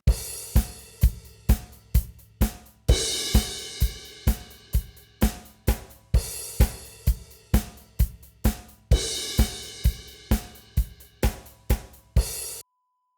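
A drum kit plays a groove in odd time, alternating bars of six and seven beats with a doubled snare hit, loud and close with sharp regular strikes and brief gaps between phrases, no talking.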